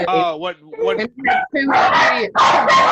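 A dog barks indoors in two loud bursts, overlapping people talking and laughing during a podcast conversation.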